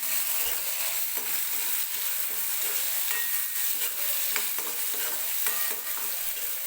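Chopped tomato fries in hot oil with onion, giving a steady, close sizzle throughout with occasional scraping stirs of the pan.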